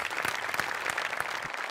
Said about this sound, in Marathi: त्यामुळे नमासाठी पण एकदा जोरदार टाळ्या व्हायला पाहिजेत.